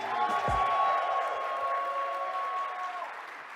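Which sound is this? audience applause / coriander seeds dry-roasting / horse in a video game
audience applause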